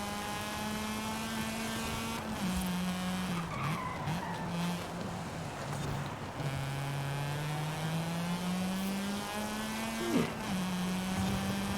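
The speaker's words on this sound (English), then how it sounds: "I just love this sound of rotaries" Rotary engine of a 1990 Mazda RX-7 Savanna in Forza Horizon 5, a buzzy, droning engine note rising and dipping with gear changes while tires skid, fairly close and continuous with no talking.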